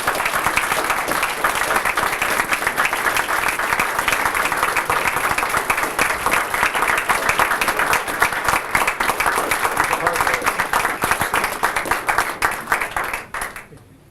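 An audience applauds Pastor Chris Holland, named Southeast District Crime Fighter of the Year at a National Night Out kick-off event, with loud, sustained clapping that runs evenly for about thirteen seconds before fading out at the end.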